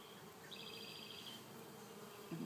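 Honey bees buzzing in an open beehive, a faint, steady drone from many insects, with a few higher buzzes of single bees passing close to the listener.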